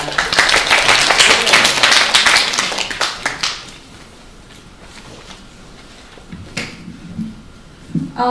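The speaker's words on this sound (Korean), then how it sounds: "큰 박수 부탁드립니다." An audience at a classroom presentation breaks into a loud burst of clapping that lasts about three seconds, then dies away to near quiet with a few scattered claps and taps afterward.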